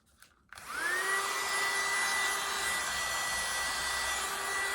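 A small mini USB handheld vacuum cleaner switches on after a brief click and runs with a steady, thin, high-pitched whine and airy hiss, close up and alone.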